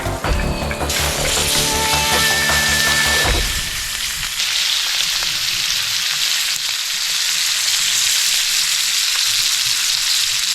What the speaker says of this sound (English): So I'm going to cook the mushies in butter, push them to the side, cook the steak, crack an egg in the mushies.